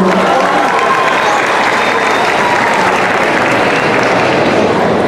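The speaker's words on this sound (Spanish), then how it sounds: "Despidamos a nuestra primera pareja, Angie Aristizabal y Sebastián Osorio, con un fuerte aplauso." At a regional porro dance championship semifinal, the audience gives a loud, dense round of applause for a professional couple leaving the floor, a continuous roar of clapping mixed with cheering that holds steady throughout.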